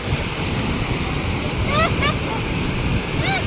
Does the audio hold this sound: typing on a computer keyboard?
no